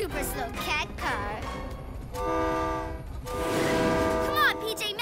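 Cartoon train horn blasts sounding in two sustained tonal honks, with rumbling and other voices and effects around them.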